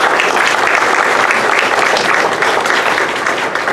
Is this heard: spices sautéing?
no